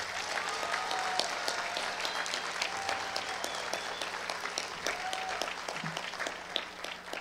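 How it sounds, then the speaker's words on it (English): A graduation audience at Gering High School gives a steady round of applause for the class of 2021 graduates, a dense, even wash of many hands clapping at a moderate distance, with no talk over it. "Please give them a round of applause."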